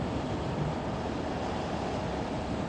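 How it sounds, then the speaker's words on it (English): Strong wind blowing outdoors, a steady broadband roar buffeting the microphone throughout with no pauses and no voices. "this wind is nuts"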